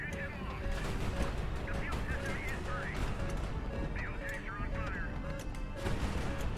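Missiles in the naval combat game High Fleet explode in a steady stream of crashing blasts. Repeating alarm beeps and warbling tones sound over dense battle noise.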